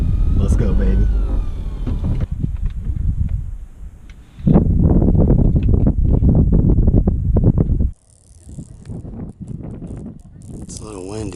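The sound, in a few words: wind noise on microphone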